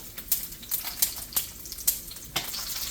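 Chile de árbol, garlic cloves and jalapeño frying in hot oil for a fried salsa roja, a steady close sizzle with repeated sharp spitting crackles and pops throughout.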